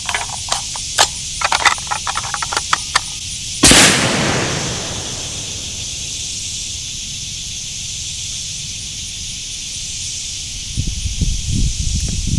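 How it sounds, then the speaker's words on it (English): A 7mm Valkyrie rifle fires once on a West Texas hog hunt: a few light mechanical clicks, then a single loud, sharp report whose hissing echo rolls away over several seconds outdoors. "I'll shoot one to see how it functions and cycles"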